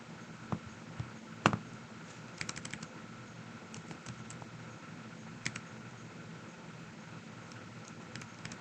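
Quiet, close computer keyboard typing, with scattered individual key clicks and a few short bursts of rapid keystrokes over faint background hiss, no talk.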